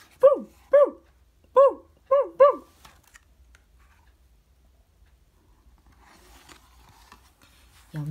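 A puppy gives five short, high yips in quick succession, loud and close, followed by near silence and a brief low sound at the very end.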